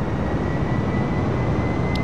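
A steady, loud propeller airplane engine drones while throttling up in Microsoft Flight Simulator 2020, a dense and unbroken roar with no voices over it.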